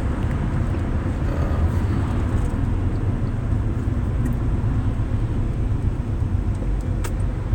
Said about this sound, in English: and now we have traffic